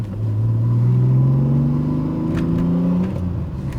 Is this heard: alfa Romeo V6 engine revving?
yes